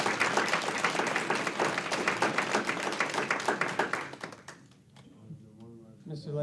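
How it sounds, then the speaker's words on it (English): Audience at a school board meeting applauds two honorees with dense, steady clapping that fades out after about four seconds, followed by someone speaking. "How about a round of applause for these 2?"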